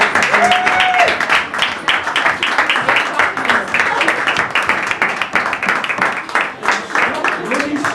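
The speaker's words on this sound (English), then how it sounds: "If I can give a massive round of applause for that." Wedding guests applaud in a steady patter of clapping that rises and falls across the whole stretch, with a few voices mixed in.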